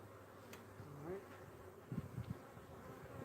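Honeybees buzz around a hive being split, a soft, steady hum sitting low in the background with a few brief louder bursts as bees move close, and no talking.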